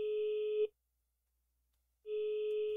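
A telephone busy signal in a first-person horror video game sounds as steady, loud electronic tone pulses, one cut off, then a silent gap before the next begins.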